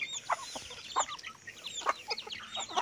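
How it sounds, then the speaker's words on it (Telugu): Backyard hens cluck in short, overlapping bursts, close by and moderately loud, with no talking. "అన్ని పెట్టలే ఉన్నాయి"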